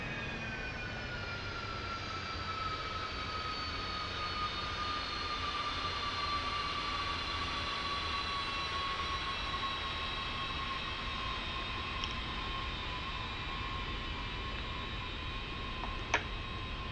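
Cessna Citation S550 jet engines after landing, a steady turbine whine with slowly falling high tones over a broad rumble, nearby and continuous, with a faint click near the end.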